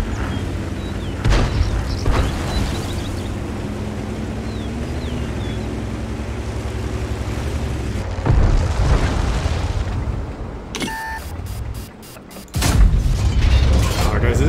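Tank cannon fire in a tank combat video game, heavy booms over a continuous engine rumble with some brief mechanical clanks, loud and near, with game voice lines toward the end.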